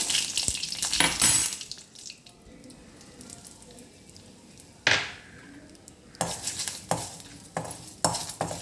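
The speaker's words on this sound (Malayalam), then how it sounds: "ഉണക്കമുളകും വേപ്പിലയും ചെറുതായി ഒന്ന് മുരിഞ്ഞ് വരുമ്പോൾ അതിലേക്ക് കാൽ ടീസ്പൂൺ മഞ്ഞൾപ്പൊടി ഇട്ട് കൊടുക്കാം" Dried chillies, curry leaves and turmeric powder frying in a pan, with close, loud stirring scrapes and sizzling in bursts, quieter stretches between, and a sharp clatter midway.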